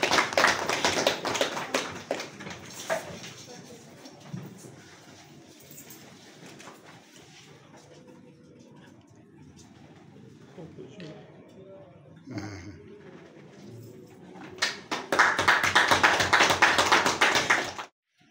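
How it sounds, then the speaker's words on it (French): Audience applause at a university partnership signing ceremony, a dense burst of clapping at the start, fading into quieter room sounds and scattered taps, then swelling back into loud clapping near the end. "Sous nos applaudissements."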